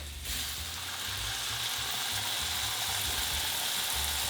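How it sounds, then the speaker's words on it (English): Two tablespoons of butter sizzle and crackle in a hot frying pan before a steak goes in, a steady frying hiss with occasional low clinks, close and fairly quiet. "toss in some butter. 2 tablespoons. Oh, hear that? Mmm, the sizzle."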